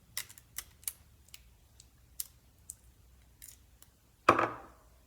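Small crisp snips and light clicks sound at uneven intervals while tiny pieces of tape are cut for a paper-and-straw rocket, followed by a single louder scraping rip near the end, close and quiet with no talking.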